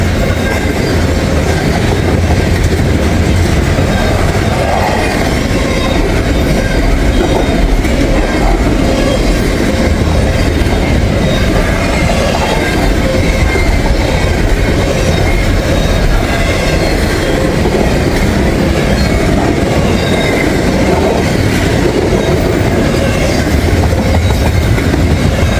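A long freight train keeps rolling by at close range in Kentucky, its loud, unbroken rumble of wagons and rail clatter steady throughout, with no voices.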